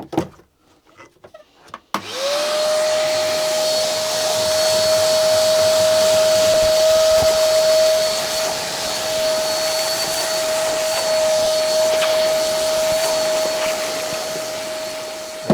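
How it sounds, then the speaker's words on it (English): A vacuum cleaner starts up after a couple of seconds of faint handling noise, then runs loud and steady with a sustained whine while cleaning the damaged interior of an AX Sport car. "I'm just gonna vacuum the worst of it up and remove the carpet."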